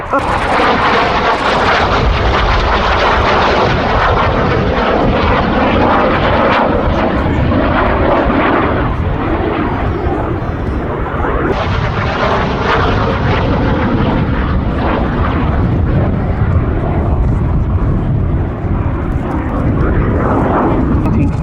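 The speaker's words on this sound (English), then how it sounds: "in comes the Sabre" Canadair F-86 Sabre jet flying in at the Battle of Britain air show at Duxford, a loud, steady roar of jet engine noise sustained throughout with a slight dip midway, a commentator talking over it on the public address.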